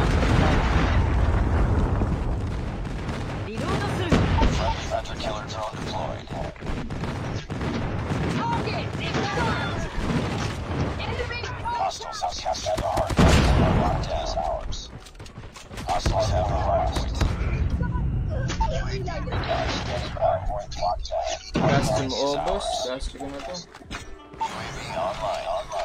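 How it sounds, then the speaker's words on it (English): A friendly air strike and a Predator missile hit in a video game, giving loud, rumbling explosions and crashes that recur throughout, mixed with game sounds and a talking player. "Friendly air strike incoming. Predator missile inbound."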